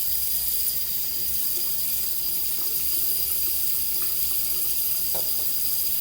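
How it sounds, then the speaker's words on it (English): Tap water runs steadily into a sink to rinse off after a wet shave with Stirling Soap Co. Royal shave soap, an even, unbroken hiss of flow from start to finish with no voices. "We rinse off the cold water."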